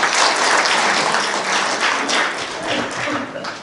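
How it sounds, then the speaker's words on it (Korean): Audience applause fills a memorial concert hall, steady and dense clapping from a crowd that stays loud for several seconds and eases slightly toward the end. "박수로 맞이하겠습니다"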